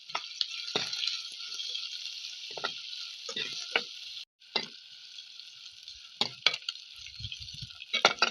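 Slit green chillies sizzle and crackle steadily in hot oil in a pan for a gooseberry curry, with occasional stirring clatter and spatula scrapes over the continuous frying hiss.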